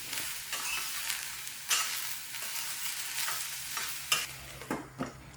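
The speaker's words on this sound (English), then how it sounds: "1 garlic clove that I saute first, and then I add in the aubergine" Garlic and aubergine sauté in a pan, with a soft continuous sizzle broken by several louder scraping stirs of a utensil. It is close, with no voices.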